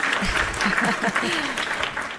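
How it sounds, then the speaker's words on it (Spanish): An audience applauds at a women's event, a dense patter of clapping with a voice talking and calling out over it throughout. "Ahí vienen los aplausos"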